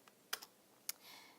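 Keys tap on a computer keyboard while a name is entered into a spreadsheet cell: a few crisp separate clicks spaced unevenly, close and quiet, followed by a soft rustle.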